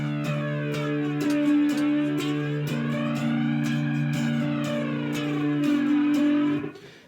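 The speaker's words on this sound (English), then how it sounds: "That is a flanger, okay? It's a modulation effect, different than a phaser." Electric three string cigar box guitar through a flanger modulation effect, droning strummed chords with a sweeping jet-like whoosh and rhythmic strums, close and clear, ending abruptly with no talking.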